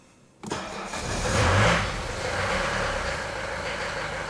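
A diesel engine cranks and catches after glow plugs are warmed, then settles into a steady idle, close and alone, with a brief rise as it fires up.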